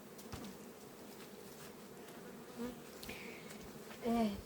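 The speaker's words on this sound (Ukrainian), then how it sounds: "пчолки ось перелазять, щоб не топилися, вони собі п'ють" Honey bees drink at a feeder in autumn, giving a faint, steady buzzing hum close by, with a couple of louder passes near the end.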